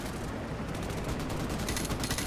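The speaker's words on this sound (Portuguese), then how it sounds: "Aí o avião vem, mete bala geral ali" An airstrike plane fires on the ground in Call of Duty: Modern Warfare, a dense rattling burst of rapid gunfire that fills the whole short stretch at a steady, moderately distant level.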